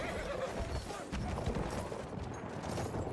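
A horse whinnies in Battlefield 1 amid the clatter of hooves and a noisy, busy background, loud and close.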